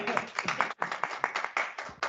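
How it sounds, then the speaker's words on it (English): A small audience in a room claps for a presentation, a quick run of close hand claps with a brief pause partway through. "We're gonna do a clap in the room."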